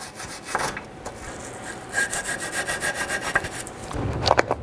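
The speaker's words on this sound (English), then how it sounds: "take a wire brush and clean up any of this rust" A wire brush scrubs rust off a rear brake caliper bracket on a 2005-10 Mercury Mountaineer, making close, rapid back-and-forth rasping strokes that grow quicker and rougher toward the end, with no talk.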